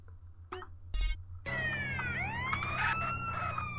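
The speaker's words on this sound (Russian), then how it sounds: "Видишь, скорая, блять, едет." An ambulance siren wails in GTA San Andreas, rising sweeping tones starting about midway and continuing steadily, loud and close over a low engine rumble, preceded by a couple of short bursts.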